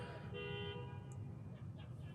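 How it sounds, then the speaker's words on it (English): A car alarm sounds outside, faint and distant, with a few tonal bleats rising over a low steady background hum. "I'm sorry about that car alarm."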